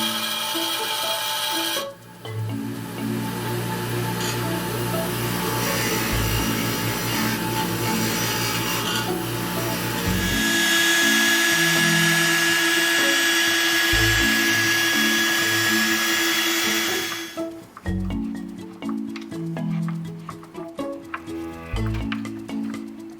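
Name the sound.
drilling holes for a foley creakbox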